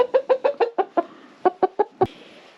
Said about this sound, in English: the bloody rooster's on the outside table again